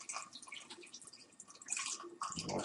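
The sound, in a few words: pouring liquid into fermenting jug for apfelwein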